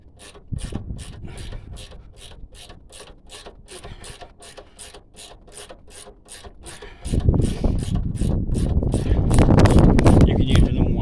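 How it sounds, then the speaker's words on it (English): A vortex socket grinds and ratchets on the front strut nut of a 2009 Renault Megane, with steady rhythmic mechanical clicks that grow heavier and louder toward the end. "we're going to use my vortex socket on there"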